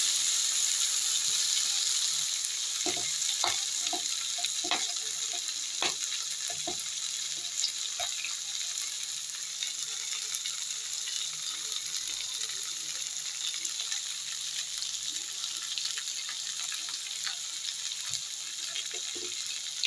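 Potatoes fry in oil in a pan with a steady, fairly quiet sizzle, broken by occasional sharp clicks and scrapes of utensils, and no voices.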